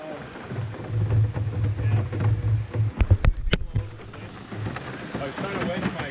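Hail and rain drumming down during a canoe trip on a river in Algonquin, with a steady patter and a few sharp clattering hits, while a person talks over the storm.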